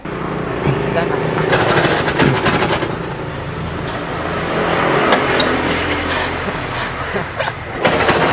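A Vespa Congo scooter engine runs loud and close, with rough, uneven revving and rattling surges over about eight seconds.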